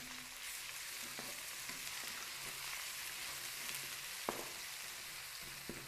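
Onions with ginger garlic paste fry in a pan with a soft, steady sizzle, quiet and close, broken by a few light clicks of stirring against the pan.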